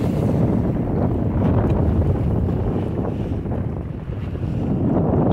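Strong wind buffets a boat at sea on a sunny day, a loud continuous roar of gusting noise with low rumble, steady throughout with no speech.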